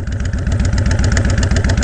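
A Honda Fury motorcycle with a Cobra exhaust idles close by, a loud, steady, throbbing pulse at an even, lumpy rhythm.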